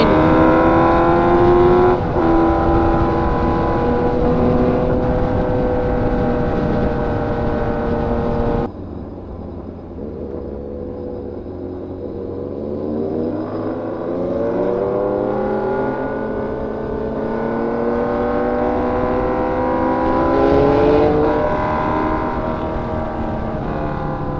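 A Yamaha MT-09 motorcycle engine revving inside a tunnel, a loud, close, echoing roar that rises and falls in pitch, drops sharply partway through, then builds again, with no voices.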